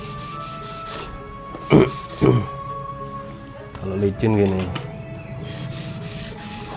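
Scratchy brushing and rubbing as rust is scrubbed from a Golsem Delman Cap Mata knife blade, in short strokes with a couple of louder scrapes, heard under someone talking close by.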